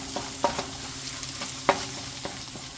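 Egg frying in a pan with bacon fat, with a steady sizzle and a few sharp clinks and scrapes of a utensil against the pan.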